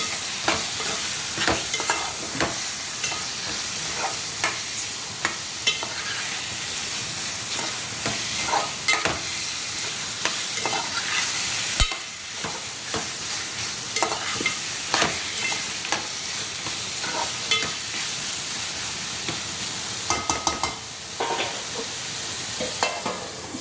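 Pakat (stingray) fish frying in a hot pan, sizzling steadily as a utensil stirs and scrapes through it in irregular strokes, with no one speaking.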